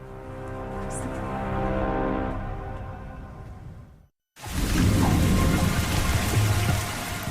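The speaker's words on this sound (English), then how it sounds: "A heavy rain soaks a small airport in Dubrovnik, Croatia." Heavy rain pours down at a small airport in Dubrovnik, Croatia, a dense steady hiss that cuts out briefly and returns just as strong, with no clear thunder standing out.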